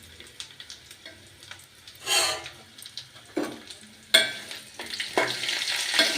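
Cumin seeds and a lemon-sized lump of tamarind frying in hot oil for a coconut chutney, giving a steady crackling sizzle that swells in bursts as pieces hit the pan, with faint stirring scrapes and no talking.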